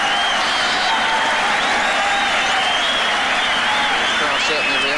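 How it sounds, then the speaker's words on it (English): Football stadium crowd at a Liverpool v Celtic match in Dubai, applauding and cheering in a steady, loud, continuous wash of clapping and voices that fills the whole stretch. "Crowd certainly reacting to that."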